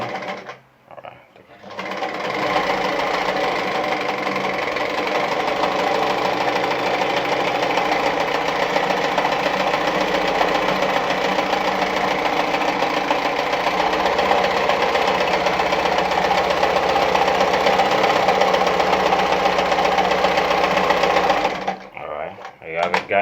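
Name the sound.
Adlerina 240A sewing machine stitching a tight zigzag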